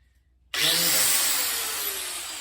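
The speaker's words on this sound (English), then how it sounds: "grind the slot. That way I can get a good ground for my welder" A power grinder cuts a slot into metal on a rat rod build, starting abruptly after a brief silence and holding a loud, steady high-pitched grinding whine with a slowly falling motor tone.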